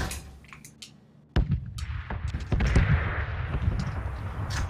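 Gunfire in the battle royale video game PUBG: several sharp, scattered shots crack at moderate distance over a quiet, busy background.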